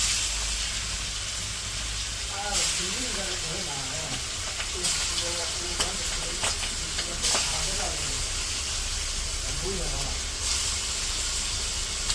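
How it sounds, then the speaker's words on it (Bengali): Fish fry in oil in a wok in a Bangladeshi village kitchen, giving a loud, constant hissing sizzle with bursts of steam, while a voice talks intermittently over it. "মাছগুলো ভাজা নিব"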